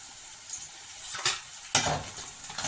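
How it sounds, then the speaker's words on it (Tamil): Onion and green chillies being sautéed in a pan for potato masala, with soft sizzling and a few scraping stirs of a spoon against the pan, close and steady with no talk. "வெங்காயம், பச்சை மிளகாய் 3ஐயும் சேர்த்து வதக்கலாம்."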